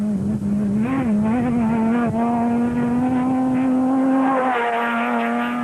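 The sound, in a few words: Atlas Copco Sandmaster rally vehicle racing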